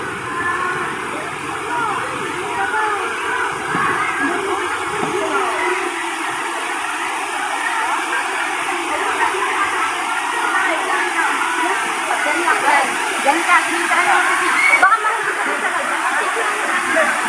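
Hinulugang Taktak waterfall in Antipolo, a loud continuous broadband rush of falling water heard close by, steady throughout and slightly swelling toward the end.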